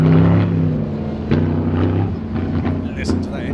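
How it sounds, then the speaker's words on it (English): Off-road race car at an Every Man Challenge qualifying event, its engine roaring loudly and steadily with revs rising and falling, nearby and continuous through the whole moment. "Listen to that engine roar"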